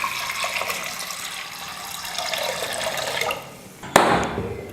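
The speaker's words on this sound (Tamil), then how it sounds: "எல்லாம் சேர்த்ததுக்கப்புறம் தேவையான அளவுக்கு தண்ணி சேர்த்துக்கிறேன்." Water pouring into a cooking pot of dal for sambar, a rushing splashy stream that thins out, followed by a sharp metallic clank and more splashing near the end.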